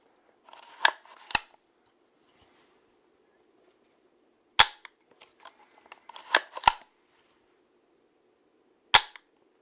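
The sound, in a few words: rifle action being cycled and cocked on shooting simulator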